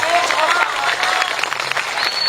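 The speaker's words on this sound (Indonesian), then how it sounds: "Tepuk tangan untuk santri." Audience clapping for santri during a humorous Sundanese-language sermon, a brisk burst of hands heard fairly close, with a voice speaking over it.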